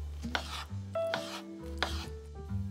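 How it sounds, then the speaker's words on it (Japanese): A knife slices skinless chicken breast into thin strips on a cutting board, a few soft rubbing strokes and taps close up, with a faint background tone. "長い辺が横になるようにまな板に置き5ミリ幅ぐらいに切ります"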